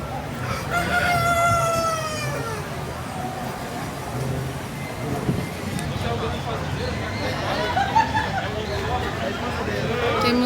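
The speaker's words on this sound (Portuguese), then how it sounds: "Temos galinha também aqui." Free-range chickens at a cattle festival farm area in Brazil, a rooster crowing loudly near the start followed by scattered clucking and hens calling, set against crowd chatter and people talking nearby.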